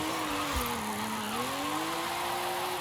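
A car slides through a drift in Forza Horizon 5, its engine holding a steady, slowly wavering tone under a continuous tire skid that carries loudly and close for the whole stretch.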